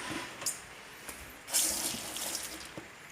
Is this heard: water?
yes